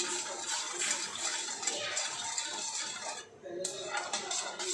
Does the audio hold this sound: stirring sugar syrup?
yes